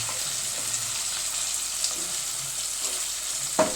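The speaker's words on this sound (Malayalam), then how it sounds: "ചെമ്മീൻ എണ്ണയ്ക്കകത്തേക്ക് ഇട്ട് കൊടുത്തിട്ടുണ്ട്. ഒരു 2 മിനിറ്റായിട്ട് ഞാനൊന്ന് ഇളക്കി കൊടുക്കാം കേട്ടോ." Prawns fry in hot oil for a pickle, a steady broadband sizzle running throughout with faint scraping stirs and a sharper clink near the end, no voices.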